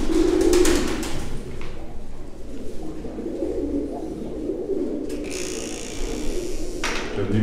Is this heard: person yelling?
no